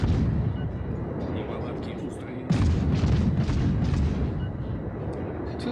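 A battleship firing HE shells in a naval video game, the Khabarovsk taking fire, as a dense, continuous rumble of booming gunfire with a louder burst midway, steady and close throughout.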